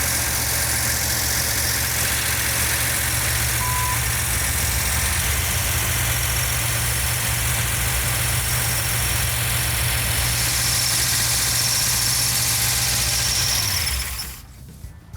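A Plymouth Challenger Six Pack engine idles steadily with noisy, ticking valvetrain, a constant rough low rumble close by that holds for about fourteen seconds before cutting off abruptly.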